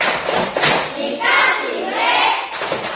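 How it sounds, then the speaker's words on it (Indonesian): A classroom of students does a rhythmic 'tepuk wow' clap chant for group 2, with loud, close, continuous group clapping mixed with chanting voices. "Kita beri tepuk wow dulu untuk kelompok 2."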